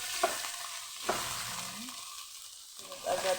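Garlic frying in a pan, a steady broadband sizzle with a few sharp stirring clacks of a utensil against the pan, close and alone without talk.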